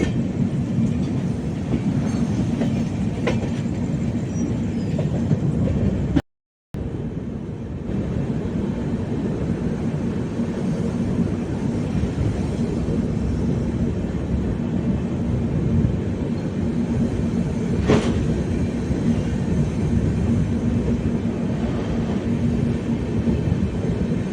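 A long-distance express train runs along the railway track as it arrives at Perambur station, a loud steady rumble of wheels and carriages with rhythmic clatter and a brief dropout partway through.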